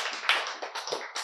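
An audience at a Korean church talk applauds in a brief, close burst of hand clapping with several uneven claps.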